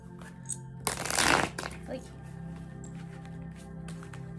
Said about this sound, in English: I'm trying to shuffle on the side so I don't disturb her.